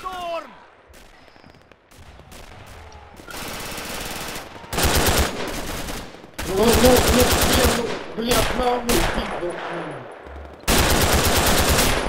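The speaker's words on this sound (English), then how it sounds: "MG up there, pinning us all." Machine gun fire in the Red Orchestra video game: loud sustained bursts of rapid automatic shots broken by pauses and single cracks, with voices shouting between them.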